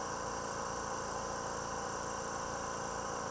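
An Extreme air compressor for model painting runs with a steady, even hum and hiss that stays faint and unchanging, with no voices.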